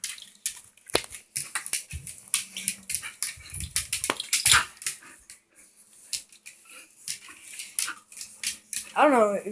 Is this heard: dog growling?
yes